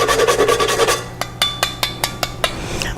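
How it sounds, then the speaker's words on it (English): Whole nutmeg grated into bechamel, quick rasping scrapes at first, then a series of separate short scrapes spaced out, close and fairly soft. "now I'm adding a little nutmeg from the nut"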